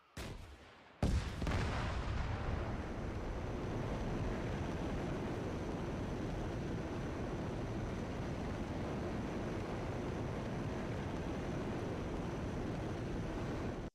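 An RPG rocket launcher fires with a sharp, loud blast about one second in, followed by a long, steady roaring rush that fills the rest of the time.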